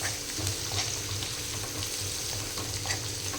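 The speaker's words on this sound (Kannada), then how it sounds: "ಈಗ ನಾವು ಉಳ್ಳಾಗಡ್ಡಿ ಹಾಕ್ಕೊಳ್ಳೋಣ್ರಿ, ಸಣ್ಣ ಚಾಪ್ಸ್ ಮಾಡಿದ್ದೆ. ಸಣ್ಣದಾಗಿ ಫ್ರೈ ಆಗ್ಬೇಕು" Chopped onions frying in a pan, a steady dense sizzle with faint stirring scrapes, close and continuous with no voices.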